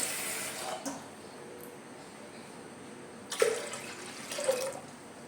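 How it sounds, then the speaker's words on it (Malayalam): Water is poured into a pot of lentils and drumstick leaves in a home kitchen, two short splashing gushes separated by quiet stretches, fairly close and moderately soft. "ഇതിലേക്ക് ആവശ്യമായിട്ടുള്ള വെള്ളവും കൂടെ നമുക്ക് ചേർത്ത് കൊടുക്കണം."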